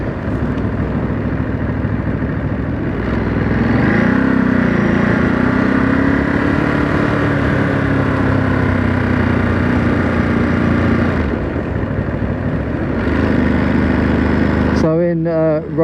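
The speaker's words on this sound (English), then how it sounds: "Bike's more than happy to move off in first gear. Pick up speed quite quickly in first." A 2023 Ducati Monster SP motorcycle pulls away in first gear, its engine droning loud and close, with pitch rising and settling as speed builds, while a rider talks over it throughout.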